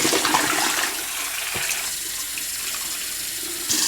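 Tap water running hard while plastic plant containers are rinsed, a steady close hiss and splash with slight shifts as the flow hits the pots, no one speaking.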